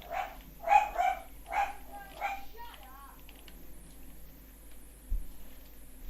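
A dog barks at close range, a quick run of sharp, loud barks in the first couple of seconds, then trails off into softer yelps and quiet.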